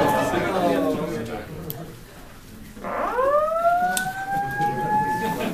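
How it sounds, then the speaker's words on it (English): A building evacuation alarm: a rising electronic siren-like tone sweeps upward and holds, repeating after a pause, loud and steady against a low background hum. "If your floor evacuation signal sounds after this message"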